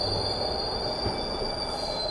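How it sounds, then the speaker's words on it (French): A video game metro train rolls past with a steady rumble and a high, sustained wheel squeal, continuous and fairly close, with no talking. "Oh le métro."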